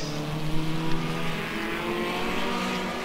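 Classic hot rod race cars race at Northampton, producing a continuous, dense roar of several engines. It sounds fairly distant and steady, without distinct pass-bys, and no one speaks.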